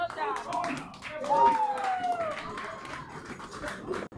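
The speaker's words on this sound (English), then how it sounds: "a big round of applause for Zach, a best man, professional hype man, and keep that applause going" Wedding reception guests applaud the best man's speech with a patter of many hands clapping, mixed with voices and a rising whistle-like call from the crowd.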